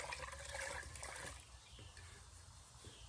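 Water running and trickling over hands to rinse off clay, a soft splashing flow that is louder at first and then settles into a quieter dribble, faint and close.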